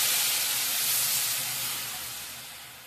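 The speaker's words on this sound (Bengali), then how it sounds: "এবারে আমি হাফ কাপ জল দিয়ে দিব।" Half a cup of water poured onto eggplant and potato frying in a pan bursts into a loud steaming hiss that slowly fades away.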